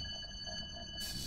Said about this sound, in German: erstmal die Türen schließen